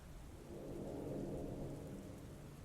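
Heavy rain pours steadily with a low rumble of thunder swelling and fading beneath it, no voices present.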